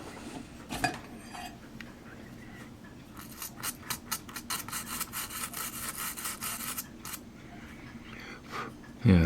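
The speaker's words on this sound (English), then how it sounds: "See if I can just scrape that off." Plastic flashing being scraped off the rail of a model ship, close and quiet, with a run of short, rough rasping strokes and a sharper clatter at the very end.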